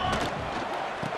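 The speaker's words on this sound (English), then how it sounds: "you can start to hear some of the boo birds coming out from this home crowd" Home crowd in EA Sports College Football 26 booing late in a game, a continuous broad roar of massed voices filling the stadium, steady and fairly loud without a break.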